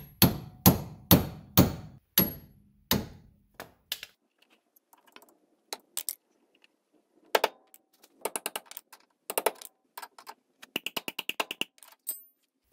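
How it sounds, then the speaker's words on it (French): A socket is tapped with a hammer to force a rubber steering rack boot onto a Citroën C25 tie rod: four loud, evenly spaced metallic knocks, then lighter scattered taps and quick clustered rattling strikes, with no talking. "On va essayer avec une douille en tapant."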